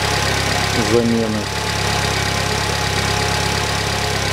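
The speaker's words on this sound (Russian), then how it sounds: "мне кажется, двигатель стал мягче работать" A 2011 Chevrolet Cruze F18D4 engine idling after timing belt and cam phaser replacement, a steady even hum close by, with someone briefly speaking over it near the start.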